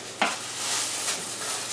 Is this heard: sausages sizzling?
yes